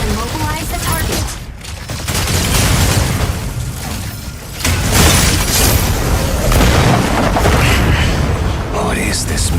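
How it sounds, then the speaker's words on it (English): Gauss cannon impacts and explosions from the mech combat game Mecha Break, dense bursts of booms and rapid fire crashing close and loud, with a voice talking over the battle. "You may also use Gauss cannons to attack. Gauss cannons' powerful impact can immobilize the target."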